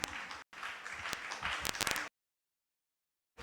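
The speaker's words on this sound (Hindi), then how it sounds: "बहुत अच्छा, तालियां तो बजा दो" An audience at a scholarly seminar gives a short round of applause, dense clapping for about two seconds with a brief break, then silence.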